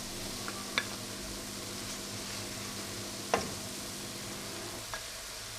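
Onions frying in a pan for Persian ash reshteh, giving a steady low sizzle with a few sharp crackles and pops scattered through it, heard alone with no voices.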